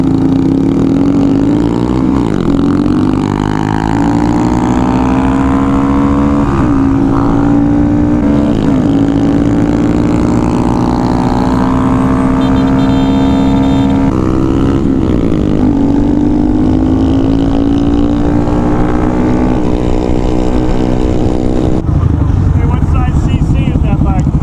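Honda Grom motorcycle fitted with a 170 big bore kit, ridden off road, its engine droning steadily and rising and falling with throttle throughout, with people talking over it.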